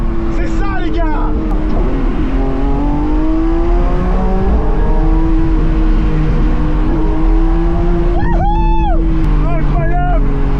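A Lamborghini Revuelto V12 pulls hard, its loud engine note rising and falling through the gears in a sustained roar close up, with excited voices shouting over it near the start and end.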